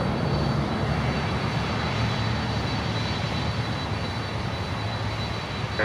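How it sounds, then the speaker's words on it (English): CF6 jet engines on a cargo aircraft roar past at Miami airport, a loud, steady broadband rumble that stays strong and close across the whole stretch, with no voices. "I think these are CF6s. They have a great sound."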